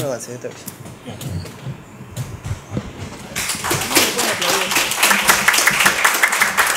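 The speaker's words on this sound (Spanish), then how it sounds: "Gracias por los aplausos." Applause from a small audience at a panel discussion on infographics, starting with scattered taps and thumps under voices, then rising into fuller, brisk clapping near the mic.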